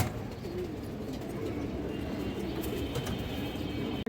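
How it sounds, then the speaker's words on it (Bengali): Pigeons cooing in a pen of high-quality fancy breeds, a dense, steady murmur of overlapping coos close by, continuous throughout with no talking. "এই দেখেন হাই কোয়ালিটির কবুতর"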